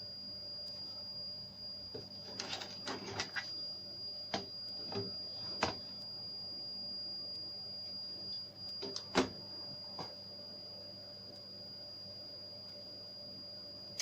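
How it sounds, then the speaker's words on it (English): A steady electronic whine with low hum runs throughout, broken by scattered clicks and short mechanical bursts, as a Dell T5400 computer's hard drive spins and seeks during boot. "I can hear the hard drive spinning and doing all kinds of weird things"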